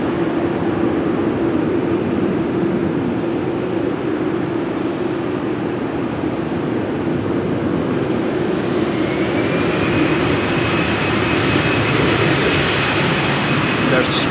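A Swiss Airbus A320 departs Schiphol for Zurich in the rain, its loud, sustained engine roar close by, holding a steady low hum that gives way to a rising whine near the end.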